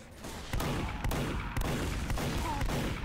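Gunshots in Team Fortress 2, with about six evenly spaced, moderately loud reports cracking over a constant low hum of in-game ambience.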